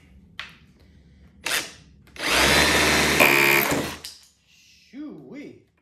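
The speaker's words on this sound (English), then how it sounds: "make sure I'm in that good old hammer mode, hammer and drill mode." A cheap cordless SDS hammer drill set to hammer-and-drill mode, breaking up brick in a loud sustained burst of about two seconds between short taps and bumps, with a voice briefly heard near the end.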